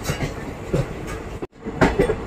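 Train running along a railway track near Karanjol station on the Dudhsagar route through the Goa hills: a steady, close rumble and rattle that drops out for an instant midway before returning.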